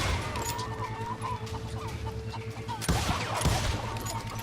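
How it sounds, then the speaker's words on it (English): Chickens clucking and squawking near stables in the Western video game Call of Juarez Gunslinger, a busy scatter of clucks mixed with gunfire-like bursts and a sharp crash partway through. "That's it, run, chickens, run!"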